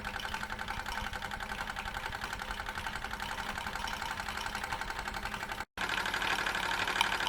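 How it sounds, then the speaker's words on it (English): A Bowman E101 model steam engine runs with a steady rapid chuffing rhythm and a faint bubbling hiss from the safety valve, broken by a brief cut near the end. "this safety valve bubbling away is letting a little bit too much out"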